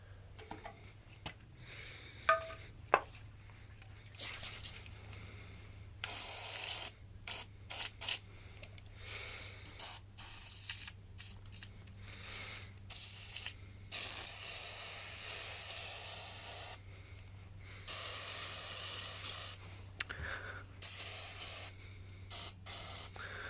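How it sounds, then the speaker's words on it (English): Liquid Wrench penetrating oil sprays onto the engine parts of a 69-year-old Briggs & Stratton 23A-FB in repeated close, hissing bursts of varying length, separated by short pauses over a low steady hum. "I guess I'll just get some liquid wrench and soak the hell out of those"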